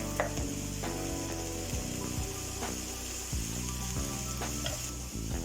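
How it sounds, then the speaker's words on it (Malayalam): Sliced onions sizzling in a pan for tomato chicken, a constant loud frying hiss with clicking scrapes from stirring laid over it, nearby and without speech. "സവാള ഇളക്കി കൊടുക്കാം."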